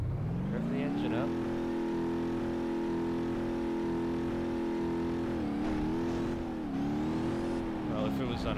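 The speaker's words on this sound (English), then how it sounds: "Rev the engine up." An engine revs and holds high in BeamNG.drive, a loud steady drone that dips briefly and then climbs back.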